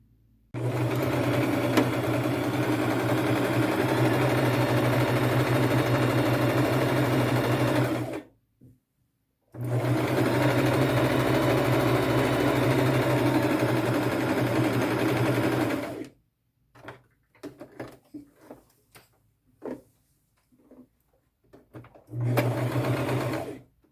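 Sewing machine running a small straight stitch along a fabric seam on a thrifted skirt, in two long steady bursts of even mechanical whirring separated by a pause, then brief stop-start runs and a final short burst near the end.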